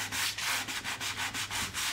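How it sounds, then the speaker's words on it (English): A sanding block rubbed back and forth over burned wood to knock back raised resin pitch, about ten quick rhythmic scraping strokes, close and steady, with no talking. "I'm gonna take my sanding block and just sand those back just a little bit"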